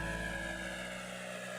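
Leaf blowers propelling a pig-piloted flying craft in the video game When Pigs Fly, a steady droning engine-like whir with a strong tonal hum, continuous and fairly loud throughout.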